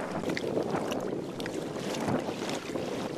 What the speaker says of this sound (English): We are going to be paddling into the flood tide and wind, so it will be a little bit more difficult.